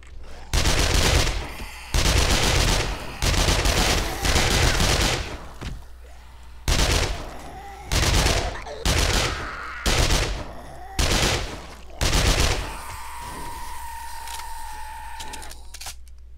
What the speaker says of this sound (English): I'm liking the machine gun here.